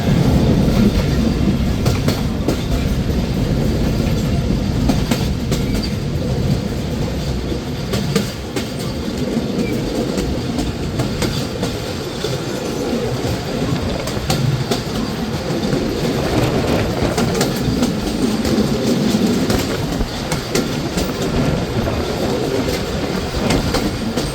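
IR Mail local train on the Rajshahi line running toward Chobbish Nagar station, recorded from inside the carriage as a loud, continuous rumble with rhythmic clickety-clack of wheels over rail joints and occasional squeals.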